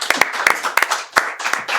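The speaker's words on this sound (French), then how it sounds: "On va l'accueillir avec plein d'applaudissements." A small studio audience at a live student radio broadcast claps in an uneven, sparse patter of distinct hand claps, close by and moderately loud.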